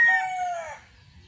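A Boston Millionaire gamefowl rooster gives a single loud, close crow that falls in pitch and trails off quickly.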